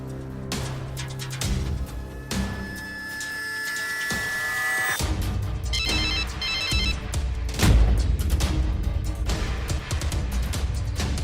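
A telephone rings repeatedly with a bright electronic tone over a loud, busy background of music and noise.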